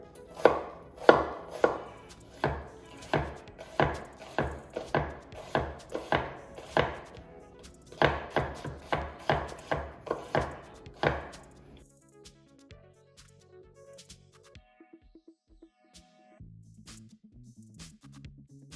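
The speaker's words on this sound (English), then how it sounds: "Cut along the line that you see the onion on the onion peel over here." A knife chops an onion on a cutting board, a fast run of sharp, close, evenly spaced strikes in steady bursts that stop midway, followed by softer scattered knocks and faint handling sounds.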